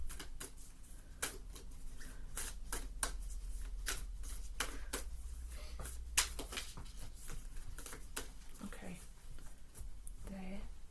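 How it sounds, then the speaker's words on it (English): A deck of tarot cards is shuffled up close, giving repeated crisp riffling and slapping bursts in an irregular rhythm over a low steady hum, with no talking. "So I'll just give them a little shuffle"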